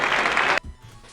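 A quick burst of clapping fills the first half second, then stops abruptly, leaving quiet low background noise.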